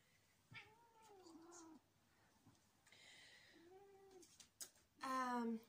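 A pet cat meows indoors several times, its calls rising and falling, with a longer, louder yowl at the end. The cries are close and clear, with light background noise between them.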